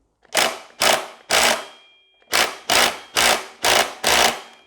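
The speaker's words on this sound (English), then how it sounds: "Hoping this will come through with the impact driver," An impact driver hammers at a torqued-down axle bolt on a Suzuki Intruder VS1400 motorcycle, three loud rattling bursts, a short pause, then five more close, evenly spaced bursts.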